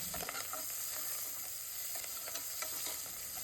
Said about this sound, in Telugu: కొద్దిగా పచ్చిమిర్చిని, ఒక రెమ్మ కరివేపాకుని కూడా వేసి దోరగా ఆనియన్స్ని వేయించుకోండి.